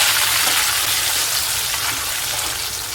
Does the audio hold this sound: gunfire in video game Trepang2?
no